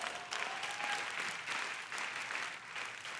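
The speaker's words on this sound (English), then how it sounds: "give yourself a clap" Audience applause at a large in-person Optavia gathering, a steady wash of many hands clapping filling the room for about three seconds with a brief tonal whistle early on.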